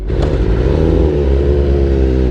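A 2023 BMW M1000RR superbike on the road, its engine droning loud and close with a steady harmonic whine that shifts slightly in pitch under throttle.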